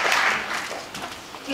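Audience applause for an award winner at a Polish volunteering website contest results ceremony, a dense wash of clapping that starts loud and tapers off over a second and a half, with a voice audible over it.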